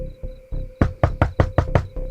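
Knocking on a door in an animated horror story: a few soft raps, then a quicker run of about seven firm, evenly spaced knocks, close and alone.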